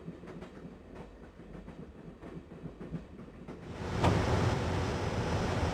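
A train runs in Broken Sword with a steady rhythmic clickety-clack of wheels over rails, moderate and close, then a louder rushing roar of wind and motion swells in and continues.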